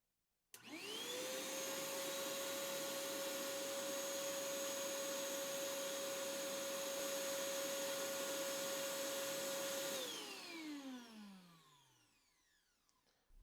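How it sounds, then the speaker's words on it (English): A 1.5 gallon shop vac powered through a 12 volt pure sine wave inverter starts abruptly, whines at a steady loud pitch for about ten seconds, then winds down with a falling tone. "All right, I'm gonna go ahead and hit that shop vac."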